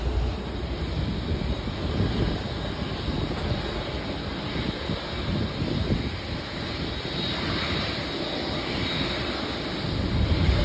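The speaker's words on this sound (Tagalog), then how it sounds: "Dito na kami sa loob ng airplane." Steady roar of an airliner's engines heard from inside the cabin near a window before takeoff on a flight from the Philippines to Japan, a continuous broadband hum filling the whole stretch with no talking.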